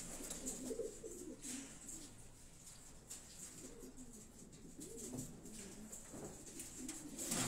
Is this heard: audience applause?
no